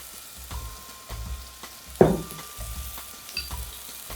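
Mushrooms fry in oil in a pan with a low, quiet sizzle, broken by a few soft stirring knocks and one sharper clatter partway through.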